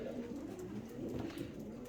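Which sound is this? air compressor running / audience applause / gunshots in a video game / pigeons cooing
pigeons cooing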